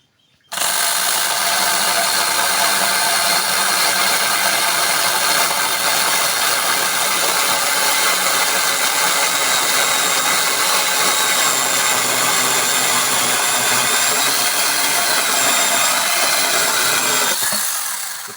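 A cordless mini chainsaw cuts through a thick piece of wood, a loud, steady buzzing whine with chain rattle that runs unbroken for about seventeen seconds, then stops.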